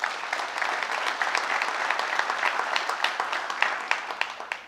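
An audience at a State of the City address in Greensboro gives a loud, sustained round of applause, dense clapping continuing for several seconds with no speech over it.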